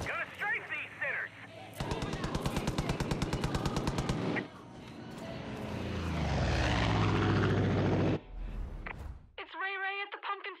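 An aircraft strafes ground targets in Far Cry 5, a loud rapid machine-gun burst over the propeller engine's drone, followed by a rising engine roar as the plane passes; voices are heard at the start and end.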